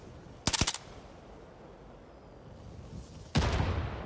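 Aircraft strafing gunfire in Call of Duty: Vanguard, two loud rapid bursts of shots with a pause between, the second ending in a booming roar.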